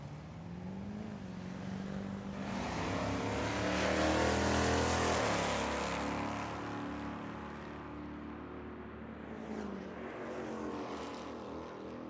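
Drag racing cars, a Nova and a Chevy 2500, launch and roar down the strip at Tucson Dragway, engine noise swelling to a loud peak and then fading into the distance, with no talk.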